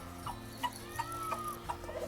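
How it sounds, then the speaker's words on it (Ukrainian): Chickens in the Bavarian Forest cluck in short, repeated bursts close by, several soft calls overlapping against a quiet background. "Дивіться, це курки"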